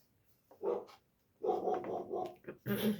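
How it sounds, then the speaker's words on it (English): A dog barks a few times nearby in quick bursts, fairly loud against a quiet background. "and Luna's barking at them."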